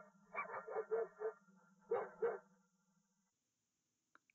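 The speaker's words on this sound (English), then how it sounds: "Separated dog bark." A dog barks, isolated by a sound-separation system from a mixture. There are two bursts of sharp, rapid barks, five in the first and two in the second, over a faint low hum, then near silence with a couple of tiny clicks.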